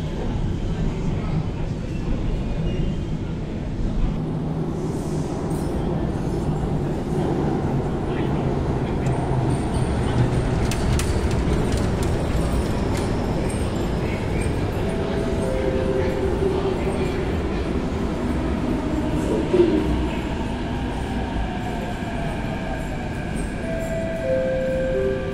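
An MTR Kwun Tong line train pulling into Yau Tong station in Hong Kong, a sustained rumble of wheels and motors over about 25 seconds with faint squeals, under station announcements.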